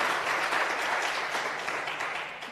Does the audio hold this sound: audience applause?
yes